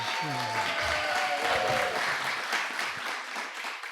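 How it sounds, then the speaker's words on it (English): An audience applauds at a live podcast event, a dense burst of clapping that starts strongly and gradually thins, with some voices mixed in underneath. "how about a nice round of applause"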